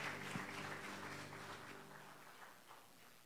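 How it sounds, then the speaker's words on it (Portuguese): Congregational applause at an evening church worship service, a soft, steady wash of clapping with sustained keyboard tones underneath, fading slightly toward the end. "Você pode aplaudir ao Senhor"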